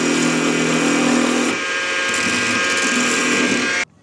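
A sanding block rubs against a spinning part of a homemade mechanical marble run, giving a steady, loud abrasive whir that eases slightly partway through and cuts off abruptly near the end.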